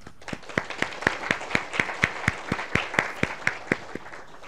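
An institute audience claps for newly promoted professors in a 2019 address, with a sparse, evenly spaced run of about sixteen distinct hand claps at moderate volume that fades out near the end.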